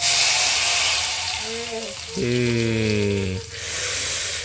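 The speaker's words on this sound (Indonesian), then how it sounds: "Jadi sambalnya tuh sambal matah dibaluri minyak panas ya." Hot oil poured over sambal matah in a home kitchen gives a steady, close sizzling hiss that runs throughout, with a voice rising briefly above it midway.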